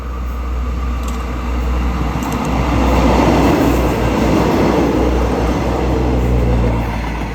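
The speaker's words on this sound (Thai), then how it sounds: "Special Express Rail Car Number 43 from กรุงเทพอภิวัตร Central Terminal to สุราษฎร์ธานี" A special express diesel railcar roars through a Thai country station, a loud steady rumble with rhythmic wheel clatter that builds and holds close by throughout, with no voices.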